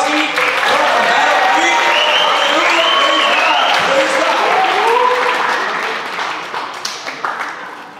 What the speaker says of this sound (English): if you can give a round of applause for Aaron Gutowski